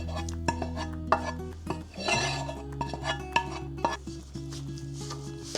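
A spoon clanks and scrapes around a pot as boiled lentils, bulgur and roasted sauce are mixed together, with repeated close knocks and wet stirring sounds over soft background music.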